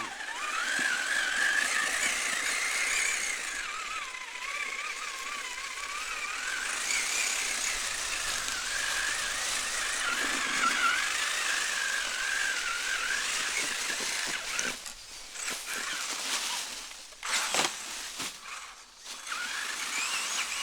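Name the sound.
Traxxas Summit RC truck driving off-road on rocks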